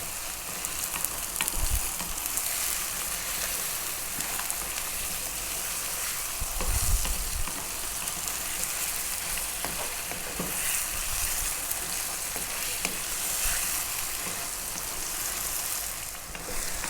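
Chili and cumin powder fry in a pan under constant stirring, a loud, close, unbroken crackling sizzle with occasional soft scrapes and knocks.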